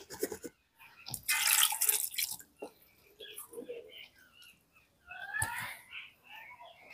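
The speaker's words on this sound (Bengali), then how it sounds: "এইভাবে জল দিয়ে ঠান্ডা করে নিচ্ছি ছানাটাকে।" Cold plain water poured over fresh chhena in a bowl while making nolen gur sandesh: short splashy pouring bursts separated by quiet gaps, with faint murmuring and small drips in between.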